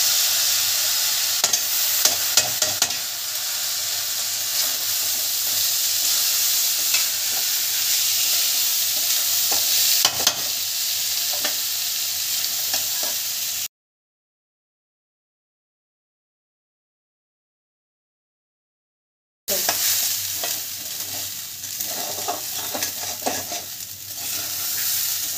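Rice and lentils for bhuna khichuri being stir-fried in a pot, giving a continuous close sizzle with spoon scraping, broken by a stretch of total silence before the frying noise returns.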